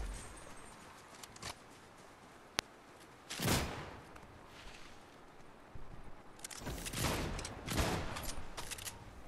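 Rapid video-game gunfire fired blindly into a bush, coming as scattered bursts of shots over a steady background, with one sharp crack and denser volleys in the middle and near the end.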